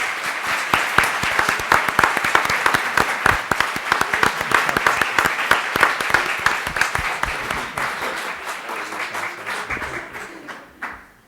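Sustained applause from a crowd, dense steady clapping for several seconds before tapering off and ending abruptly.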